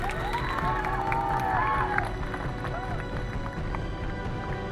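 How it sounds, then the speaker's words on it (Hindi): Students at a Class 10 school farewell celebration clap and cheer loudly as a crowd, with excited shouts and voices mixed through the noise. "अपने जोर से ताली एक बार अपने लिए बजा लीजिए"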